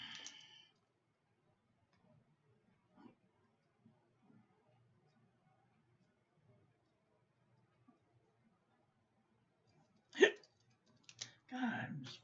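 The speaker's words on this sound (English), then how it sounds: "God, I'm just full of hiccups and burps today." A single sharp, close hiccup breaks a long near-silent stretch, followed by a couple of softer bodily sounds in an otherwise quiet room.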